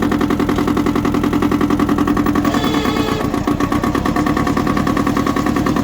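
An ISEKI TX1300 rear-wheel-drive 2WD Japanese tractor engine runs steadily at a mid-pitched idle-like drone while the machine drives, loud and continuous throughout, with a brief rougher patch midway.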